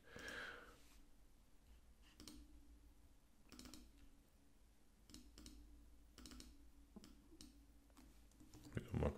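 Mouse clicks from someone working in Microsoft Excel, heard as a scattered series of faint, sharp clicks at irregular intervals over quiet room tone, with a louder click near the end.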